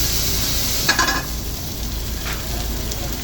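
Garlic and cherry tomatoes hit a hot pan where sea bass is already cooking, giving a steady close sizzle with a brief louder crackling burst as they land, then a continuous hiss.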